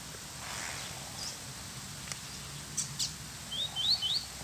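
A caged double-collared seedeater sings short, high chirping phrases over steady outdoor background noise, growing more active toward the end.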